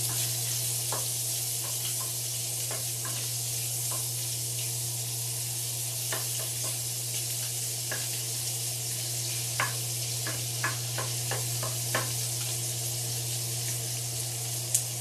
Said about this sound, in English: at this time I'm going to add in my andouille sausage